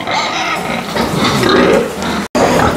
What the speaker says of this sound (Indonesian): Ini babi-babi yang mau dipanen bulan depan ya, bulan Juli ya.